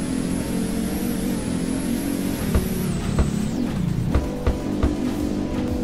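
Cars driving in a video game, a loud continuous engine drone with shifting revs, a high whine that drops in steps, and several sharp clicks and thumps in the later part.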